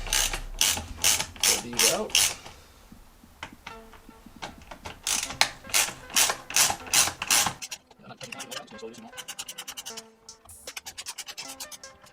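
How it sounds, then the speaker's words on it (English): A T30 Torx bit in a ratchet driver backs out screws from a 2007–2013 Chevrolet Silverado steering wheel, giving bursts of rapid metallic ratchet clicks in repeated strokes, close and loud, with quieter clicking toward the end. "So these require a T30 Torx bit."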